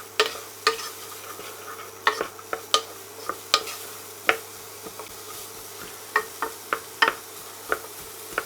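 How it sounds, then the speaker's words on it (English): Onions, carrot and celery sizzling softly in a pan while a utensil stirs them, sharp scraping clicks scattered irregularly over a steady low hum. "Just gently fry the onions and the carrot and the celery for a bit."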